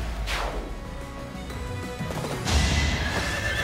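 A horse neighs in Fire Emblem Three Houses, a loud close whinny at the start falling in pitch, followed by clopping and a crashing impact of battle, ending in a bright rushing effect.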